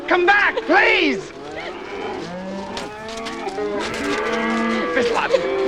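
Cattle moo loudly and repeatedly amid a cattle drive, long drawn bellows overlapping one another with a busy outdoor background and some voices mixed in.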